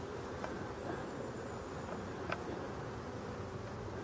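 Honeybees fly in and out at their hives, a soft continuous buzz of many wings near and around, with a few individual bees droning closer past.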